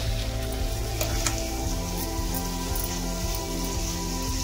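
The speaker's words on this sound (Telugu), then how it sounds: "ఇది చికెన్ ఫ్రై అండి. 1 పావు కిలో ముక్కలకి చికెన్ ఫ్రై చేస్తున్నా." About a quarter kilo of marinated chicken pieces fry in oil over a medium flame, giving a steady, close, crackling sizzle throughout with no voices.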